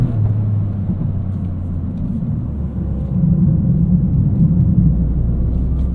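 A 2023 Toyota GR Corolla's little three-cylinder engine drones at steady low pitch on a canyon road, a continuous close rumble that swells slightly partway through with no voices.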